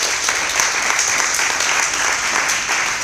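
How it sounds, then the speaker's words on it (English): Loud, dense applause from an audience at a startup demo day in Singapore, welcoming the managing director on stage, a continuous even roar of clapping throughout. "Please give a loud round of applause"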